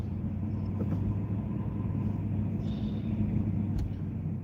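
Steady low rumble of heavy road traffic heard from inside a moving car, with a continuous engine and road drone and no talking.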